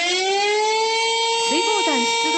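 A loud, sustained wailing siren signalling flood-fighting crew dispatch during a Tone River flood drill in Fukaya, Saitama, holds a steady tone, with a short spoken voice breaking in near the end.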